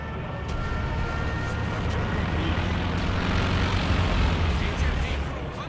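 In the video game Company of Heroes 2, an airplane roars overhead as a steady, loud, broad engine drone that fills the whole stretch, blended with rumbling battle noise.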